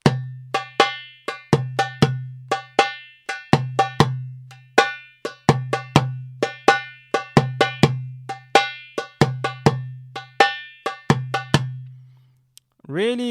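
A darbuka plays the Iraqi 2 rhythm very slowly, deep resonant dooms alternating with sharp ringing teks and lighter kas in a steady repeating cycle, close and dry, ending with a single brief tone.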